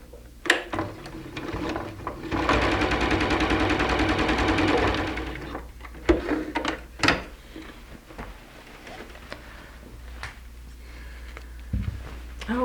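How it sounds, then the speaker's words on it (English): A sewing machine runs a seam along a pajama pant leg, one steady burst of fast stitching lasting a couple of seconds, then stopping, followed by fabric handling and scattered light knocks. "Now we'll just sew our ½ inch seam on both pant legs."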